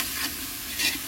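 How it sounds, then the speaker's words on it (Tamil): Spice masala for mutton biryani sautés in a pan, a brief close sizzle with a stirring scrape and a short burst of crackle near the end. "இதை கொஞ்சம் நல்லா வதக்கிக்கலாம்"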